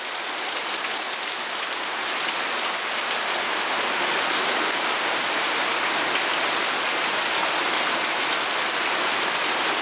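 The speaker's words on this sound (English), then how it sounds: "That's real rain, man." Heavy rain pours down in Nosara as a dense, loud, unbroken hiss. It stays steady throughout, with no voices heard.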